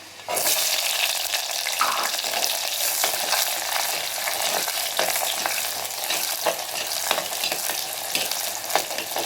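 Garlic cloves and small shallots fry in oil for a mango seed kuzhambu, giving a dense, continuous sizzle close up with light stirring scrapes, no voices.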